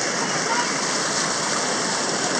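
A waterfall pouring into a freshly painted lazy river at a water park, a steady broad rushing roar heard close and loud, unbroken for the whole stretch.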